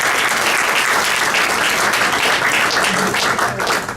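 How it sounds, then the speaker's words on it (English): Audience at a city council debate applauding, a dense, loud burst of many hands clapping that fills the room steadily before tapering off at the end. "Can we give them a full round of applause?"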